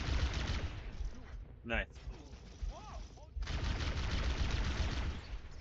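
A plasma pistol fires in a video game, a dense run of harsh, loud energy bursts that break off briefly mid-way before resuming, with game effects and a short spoken remark.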